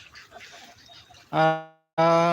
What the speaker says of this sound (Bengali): এই যে প্রচুর হাঁস এখানে এই যে হাঁস খামার